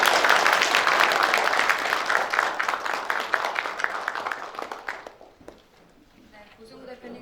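Audience applause at a Korean journalists' day commemoration ceremony, a dense, steady clatter of many hands clapping in a hall that fades out after about five seconds, leaving quiet room tone and a few stray claps.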